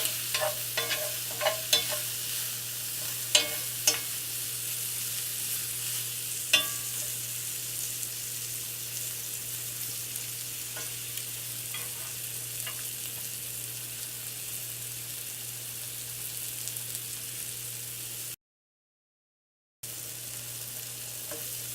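Shrimp frying in a pan while being stirred, a steady soft sizzle with scattered scraping and clicking utensil knocks, briefly cut to silence near the end, with no talk.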